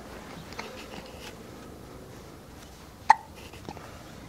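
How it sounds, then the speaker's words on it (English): One short, sharp hiccup stands out once against a quiet indoor background, with a few faint ticks around it. "You do have the hiccups, don't you?"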